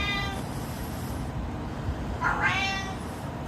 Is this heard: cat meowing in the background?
yes